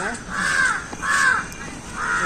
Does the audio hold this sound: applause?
no